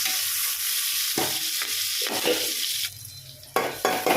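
Sliced onions and green chillies frying in oil in a pan, a steady close sizzle with a few spatula scrapes and stirs, the hiss easing and then flaring again near the end; nobody speaks.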